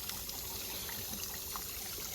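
Irrigation water runs steadily from a channel into farm fields, a continuous close trickling and gurgling flow with no pauses.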